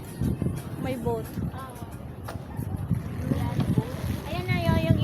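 A boat moves on open water, its low churning rumble carried under gusting wind noise while people chat nearby.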